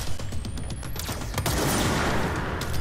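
Rapid gunfire in the action game Control, a dense burst of loud repeated shots crackling close by, sharp cracks layered over a rumbling backdrop throughout.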